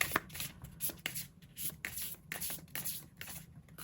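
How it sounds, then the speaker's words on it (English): A deck of cards being shuffled by hand during a tarot-style card reading, repeated crisp riffling bursts in an irregular rhythm, close and fairly quiet, with no talking. "I'm going to shuffle this deck here and pull out 3 cards"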